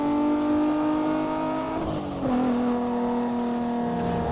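A car races at speed in Need for Speed Most Wanted, its engine droning at a steady high pitch, briefly dipping around a gear change midway before settling again, loud and close with no talk.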